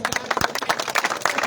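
Applause from a crowd for a trophy presentation at a cricket league final, brisk scattered clapping at close range, steady throughout the short burst.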